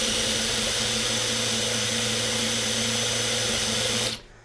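A DeWalt cordless impact driver spins freely at high speed, a steady loud whine that holds level for about four seconds, then cuts off and winds down.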